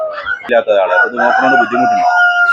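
A rooster crows loudly and close, a long drawn-out call over a couple of seconds, with hens clucking faintly around it.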